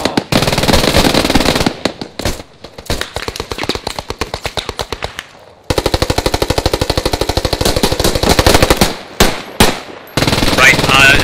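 Rapid bursts of machine-gun fire in the Post Scriptum video game, loud, close and sustained, with dense rattling volleys broken by short pauses and a few separate shots.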